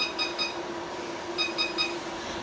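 Smoker temperature alarm beeping in two bursts of three quick, high electronic tones, separated by a pause, fairly faint over a low background hum.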